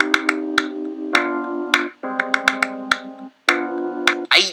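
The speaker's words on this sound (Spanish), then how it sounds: "y con un piano eléctrico, que hace esto" Electric piano from a song plays warm, sustained chords that shift in held blocks, punctuated by crisp flamenco handclaps, with brief gaps between phrases and a busier burst at the close.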